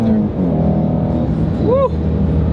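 A Ford Shelby GT350 engine revs up high toward 8,000 rpm inside the car, a loud sustained roar with a rising whine near the end, and people talk briefly over it.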